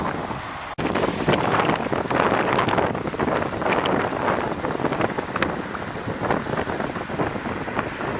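Wind buffets a microphone while someone cycles at night heading into Venice, a loud continuous rumble and roar that starts abruptly and holds steady throughout with no voices.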